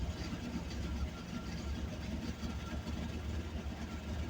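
A truck engine runs rough and uneven, with a low, loud, rumbling idle and no clean rhythm, while people talk over it.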